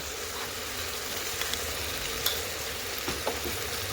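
Crushed garlic frying in a pan for a gravy, a steady soft sizzle close by with a few faint clicks of a utensil and no talking.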